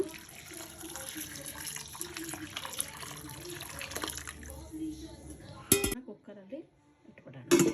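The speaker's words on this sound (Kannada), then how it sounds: "ಇದಕ್ಕೆ ಸಾಕಷ್ಟು ನೀರನ್ನು ಹಾಕ್ಕೊಳ್ಳೋಣ" Water pours into a cooking pot for bisi bele bath in a home kitchen, a running splash with clinks of metal pots and utensils, close and moderately loud before a brief pause.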